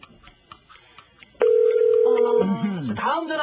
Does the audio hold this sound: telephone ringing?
yes